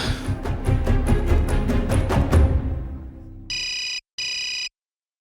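Telephone ringing: after a fading musical passage, two bright electronic ring bursts sound close and loud, separated by a brief gap, then silence.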